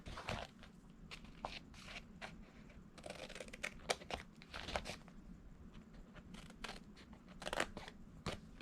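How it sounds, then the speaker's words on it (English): Nippers snip and trim through wrapping paper in a quiet room, a rapid series of sharp crunchy cuts clustered in bursts with short pauses between them. "I'll use my nips and just go in and trim at an angle"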